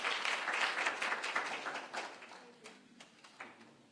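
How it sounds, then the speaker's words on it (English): A breakfast meeting audience claps for His Excellency, a burst of many hands that starts full and gradually thins and fades over a few seconds, with a faint voice at the tail. "Let's give His Excellency another round of applause."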